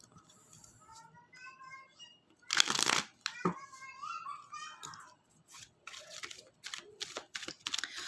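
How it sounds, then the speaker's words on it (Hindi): Tarot cards shuffled by hand close up, irregular papery riffles and slaps with a louder burst near the middle, followed by softer scattered card taps. "कार्ड्स को अच्छे से हम शफल कर लेंगे।"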